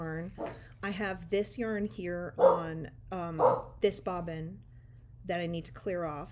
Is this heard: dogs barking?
yes